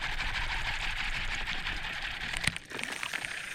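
A fishing reel cranked fast to bring in a blade bait while bass fishing, producing a steady whirring buzz with a brief hitch near the end, close and moderately quiet.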